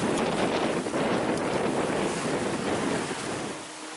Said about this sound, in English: we think we've just entered the Gulf Stream because the waves have changed slightly, they've become a little bit steeper